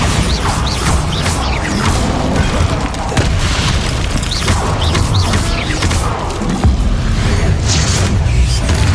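Bombarda blasting spell explosions in Hogwarts Legacy, set amid a fight: loud, constant crashing booms and mechanical clatter pile up without a break, with whooshing bursts layered on top.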